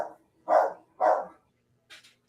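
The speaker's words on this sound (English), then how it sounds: "I had to mute you because the dog is loud" A dog barks twice in loud, close bursts about half a second apart, then gives a fainter, higher yelp; short gaps of near silence separate the sounds.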